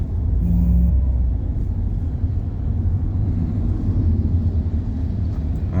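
Steady car traffic rumbles along Gov. M. Cuenco Avenue in Cebu City, a dense, continuous low roar of engines with no voices.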